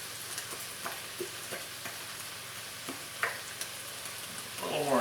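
Steady sizzling while a spoon stirs a thick oyster sauce mixture for Mongolian lobster, with soft scraping strokes and a few small clinks, continuous and close, rising briefly near the end.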